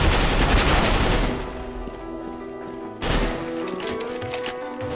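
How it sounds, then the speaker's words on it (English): A flashbang grenade and gunfire in a video game: a dense, loud burst of rapid shots, a fall to a quieter rumble, then a second sharp blast at about three seconds with ringing tones trailing after. "Deploying flashbang."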